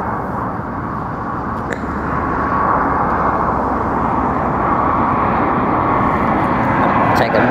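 An airplane landing at Heathrow Airport gives a steady, broad roar that holds evenly throughout and swells slightly partway through.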